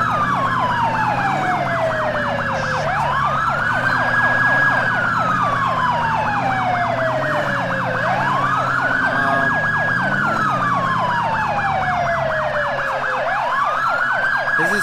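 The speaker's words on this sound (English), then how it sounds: "Sometimes the sirens get stuck on." A video game police car siren in the LCPDFR mod wails, sweeping slowly up and down in repeated cycles, loud and continuous, layered over a fast pulsing electronic yelp and low engine hum.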